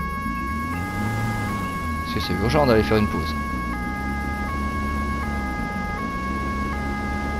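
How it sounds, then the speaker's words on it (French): A police car siren in a PS4 driving simulator game wails in a steady two-tone pattern, alternating high and low pitches for the whole stretch over a low engine hum, while someone speaks French over it. "on va mettre la sirène"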